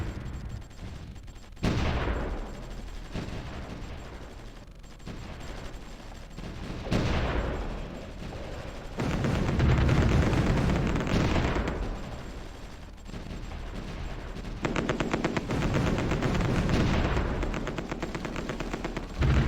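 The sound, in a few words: gunfire and artillery in Supreme Ruler Ultimate video game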